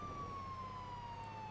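A pink ambulance's siren wails in a vehicle video game, a single tone sliding slowly down over a steady engine-like hum, heard alone.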